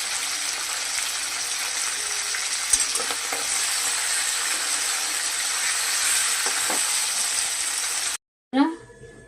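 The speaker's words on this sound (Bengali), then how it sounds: "আমার মাছটা ভাজা হয়ে গেছে। এবার আমি মাছগুলোকে তুলে নেবো।" Fish sizzling steadily as it fries in a pan, a continuous close hiss with a few faint clinks, cutting off near the end before a short burst of voice.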